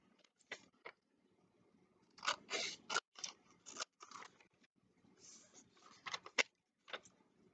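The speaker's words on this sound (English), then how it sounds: "Okay, I'm done with my scissors." Scissors cutting paper for a school craft project: a run of quiet, close snips and crisp shearing cuts in uneven bursts, with short pauses between them.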